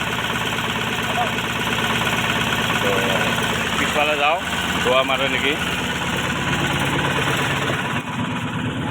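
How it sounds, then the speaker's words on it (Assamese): A Mahindra Maxximo passenger van's engine idles steadily and loudly after a full engine refit, a continuous close rumble with a voice talking over it. "আমাৰ ইঞ্জিন ষ্টাৰ্ট হ'ল"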